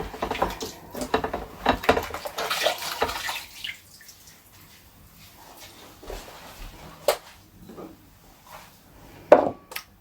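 Hands being washed under a running kitchen tap, a broad splashing water sound in the first few seconds that fades to quiet, followed by a few isolated knocks and clatters.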